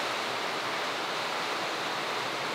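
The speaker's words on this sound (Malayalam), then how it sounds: "നല്ല മഴ." Steady, dense hiss of heavy rain, continuous and even for a few seconds with no pauses or voices.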